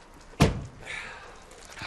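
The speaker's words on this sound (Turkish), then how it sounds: "Ben size kapıyı açayım." A door in a Turkish comedy scene swings shut with a single solid thunk near the start, followed by faint shuffling and movement in a quiet room.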